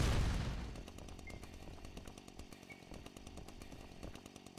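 A chainsaw weapon from the shooter ULTRAKILL starts with a loud burst, then keeps revving as a steady buzz, broken by rapid, sharp impact clicks that repeat all the way through.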